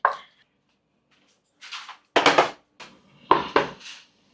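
A pan of peppers and tomato sauce for chicken karahi is set back on the heat with several sharp metallic knocks and scrapes, close and clear, in short bursts separated by quiet gaps.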